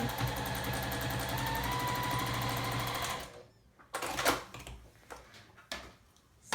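A sewing machine runs in a steady, fast-stitching burst while it sews quilt prairie points, then stops abruptly around halfway, leaving scattered handling sounds and light clicks.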